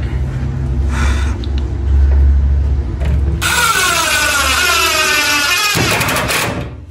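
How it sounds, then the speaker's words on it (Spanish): A power drill drives a 2x6 screw into wood while a closet is built, first a low rumbling hum, then a loud rising whine that strains and cuts off, close and alone. "Ahora aquí le ponemos un tornillo de 2x6."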